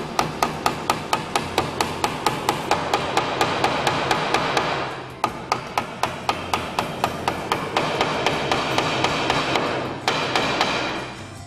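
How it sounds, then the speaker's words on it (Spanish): Rapid, steady hammer blows ring out close by, dozens of sharp strikes in quick rhythm with two brief pauses, driving nails into wood for a planter. "¡Cómo me gusta darle al martillo!"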